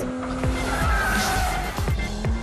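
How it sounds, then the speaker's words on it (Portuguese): A Porsche GT3 RS with a naturally aspirated engine accelerates hard out of a carousel corner, its loud engine revving up through rising gear pulls with tire noise, no voices over it. "Acelerar não é problema com o GT3 RS."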